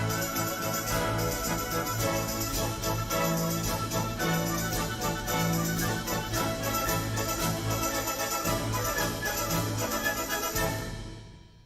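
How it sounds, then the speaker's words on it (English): A full orchestra plays a dense, continuous passage of strings, winds and brass at steady moderate loudness, heard alone, with the final chord cut off and fading out. "The entire orchestra sounds like this."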